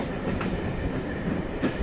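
A train rolling along rails, a steady dense rumble with faint rhythmic clatter of wheels, close and continuous with no voices.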